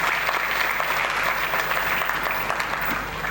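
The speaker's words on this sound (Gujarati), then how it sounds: "તો એક આપના શિક્ષકો માટે એકવાર જોરદાર તાળીઓ થઈ જાય" Loud, sustained applause from a crowd honoring teachers at an Ahmedabad Education Group function, a dense continuous roar of clapping that holds evenly for several seconds before easing slightly at the end.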